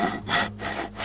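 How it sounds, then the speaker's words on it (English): Wooden planks being sawn and gathered while crafting in the video game DayZ: three steady back-and-forth rasping saw strokes, close and fairly loud, with no voices. "crafting and gathering planks"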